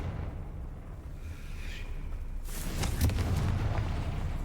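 The Confringo spell is cast in a Harry Potter game, a rising whoosh that bursts into a rumbling explosive boom with crackling debris, over ongoing background ambience.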